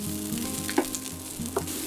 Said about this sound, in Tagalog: Sauté the garlic followed by the onions and cook for a couple of minutes.